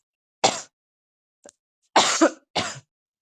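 A man coughs three times with a short pause between, dry and close, with a small throat sound in the gap and silence around them.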